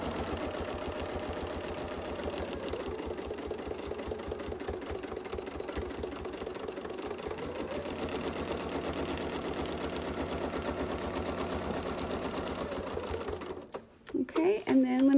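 A sewing machine stitches quilting lines along a Westalee Mini Baptist Fan template, running as a fast, even mechanical chatter close by and without a break for most of the stretch, then stopping near the end.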